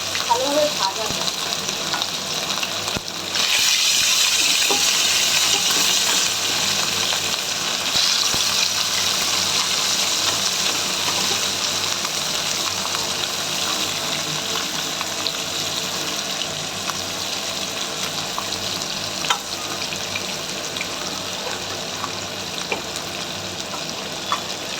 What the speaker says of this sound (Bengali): কড়াইতে করলে একটা সুবিধা কী বলো তো, মাছগুলো বেশ ভালোভাবে ভাজা যায়।